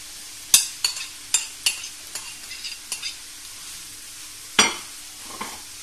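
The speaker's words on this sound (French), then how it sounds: "Presque cuit les légumes, je vais venir ajouter la viande hachée." Vegetables sizzling in a pan while stirred, sharp spoon scrapes and clacks in an uneven series over a low hiss, close and clear with no voices.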